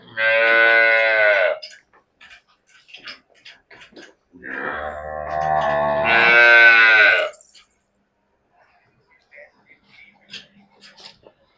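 A black Jersey cow moos loudly and close, one long call followed after a pause by a lower groaning moo rising into a second strong bellow, with soft rustles and faint voices in the quiet gaps.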